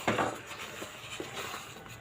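A spoon scrapes and knocks against a pot while ripe mango is mixed with nuts and cardamom, giving a few soft clinks and rubbing scrapes at close range with no talk.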